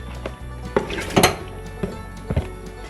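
A pressure cooker on a stove takes half-cooked mutton, heard as a few close metallic clanks and clinks of pot and utensil over a steady low background hum.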